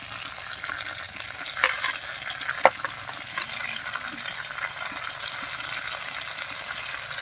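A paste of onion, garlic, ginger and cumin fries in a pan with a continuous close sizzle, a couple of sharp utensil knocks and scraping stirs breaking through the crackle.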